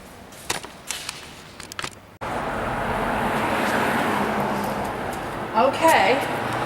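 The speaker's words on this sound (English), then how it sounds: "Hope you can hear me for the car noises." Car traffic on the road outside a store front swells into a continuous roar of passing vehicles after a few brief knocks at the start.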